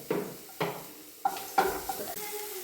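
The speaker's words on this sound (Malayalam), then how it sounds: "അതിൻ്റെ പച്ചമണം മാറുന്ന വരെ ഒന്നിട്ട് വഴറ്റണം കേട്ടോ" Crushed ginger and garlic sauté in a pan for a mushroom curry, with a soft sizzle under four or five distinct scraping stirs of a utensil against the pan, close and fairly quiet with no voices.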